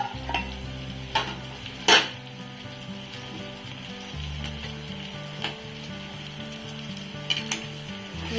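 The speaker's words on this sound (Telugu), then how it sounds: "ఇదిగోండి, నెత్తళ్ళు అనేవి ఇలా ఫ్రై అయ్యాయి." Dried anchovies fry in a pan with a soft, continuous sizzle, while a spatula scrapes and clatters against the metal in irregular bursts, up close and with no talking.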